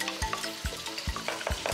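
An old frying pan on the stove sizzles with hot water, steady crackling hiss broken by several sharp splashy pops.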